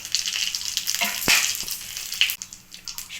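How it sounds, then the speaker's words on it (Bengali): Whole cumin, whole garam masala spices and bay leaf fry in hot oil, a bright crackling sizzle with a few sharp pops and spatters, close and moderately loud, with no talk. "ভালো করে ভেজে নেব।"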